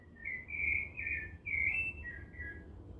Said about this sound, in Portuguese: Vocês sabem que pássaro é esse? É o sabiá laranjeira.